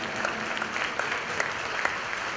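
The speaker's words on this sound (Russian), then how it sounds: "ваши аплодисменты" Audience applause for the dance couple Sergei and Olga Konovaltsev at a 2013 champions' dance duel; steady, dense clapping from a crowd fills the whole moment without a break.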